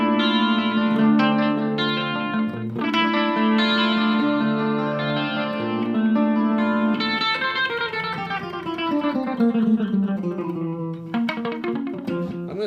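A Korean-made Ibanez AS80 electric guitar played on its treble pickup through an amp with effects, ringing chords and sustained notes with a chorus-like shimmer and light drive, steady and close for the whole stretch, with no talking.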